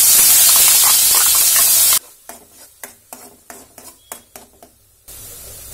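Ground coconut hits hot oil with a loud steady sizzle and hiss, then a run of close stirring scrapes in quick strokes before the sizzle returns.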